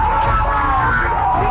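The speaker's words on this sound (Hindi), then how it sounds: "नारेबाजी" Crowd of protesting workers yelling and shouting slogans together, a loud continuous roar of many voices that fills the whole stretch without a break.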